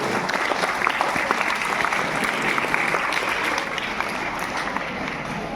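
Sustained applause from a large audience at a cervical cancer awareness and vaccination event, steady and dense throughout, with crowd noise filling the room and no pauses.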